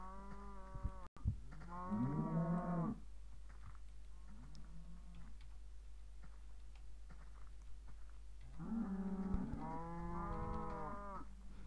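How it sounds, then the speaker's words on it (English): A cow mooing in Minecraft gives three long, drawn-out moos, loud and close, separated by pauses over a constant low hum. "Cow, why are you taking off of my ship?"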